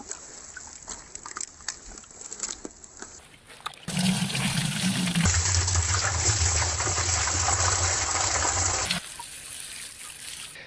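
Water pours and gushes loudly into an ash mixture for several seconds, after quieter trickling and handling noises, then cuts back to a softer wash.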